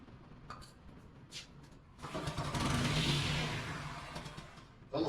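A small engine on lawn equipment cranks with a few faint starter pulls, then catches for a rough, sputtering run of about three seconds that fades and dies, struggling as if starved of fuel.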